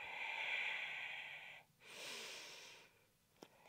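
Breath during a Pilates abdominal exercise: two long, airy exhalations close to the microphone, separated by a short pause, followed by a faint sniff, with no speech.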